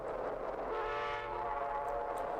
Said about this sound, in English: Amtrak's F40PHs came equipped with either Nathan K5LA or P5 series air horn